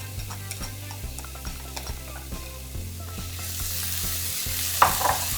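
Vegan inari sushi filling ingredients cooking together in a pan, with a steady sizzle under repeated scraping and stirring strokes that grows louder and brighter near the end, with no one talking.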